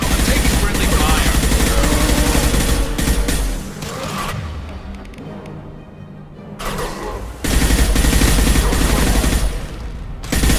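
Gunfire in the video game Mass Effect Legendary Edition: dense bursts of rapid shots and blasts, loud and close, dropping to a quieter lull midway before the firing resumes at full force.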